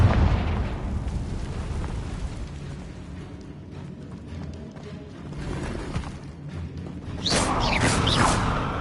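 Explosive Confringo spell bursting in the video game Hogwarts Legacy, a muffled boom rolling under game noise, followed near the end by a brighter crackling whoosh.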